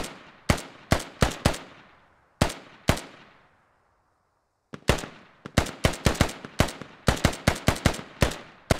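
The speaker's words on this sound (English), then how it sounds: "Militia and Russia trading small arms." Sharp, close small-arms shots from an exchange of fire between militia and Russian forces in the tactical shooter Squad, single reports with reverberant tails, then a quick irregular volley of overlapping rounds.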